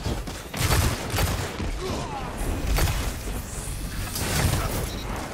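Gunfire from Halo 5: Guardians, several heavy shots and thuds spaced across the stretch amid steady game ambience, with a loud burst near the start and another midway.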